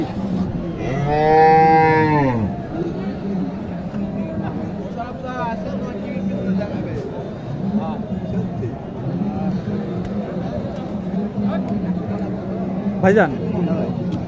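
A loud, drawn-out cow moo rises over a busy cattle market din at Mataji Hat in Naogaon, followed by fainter lowing and chatter from the crowd.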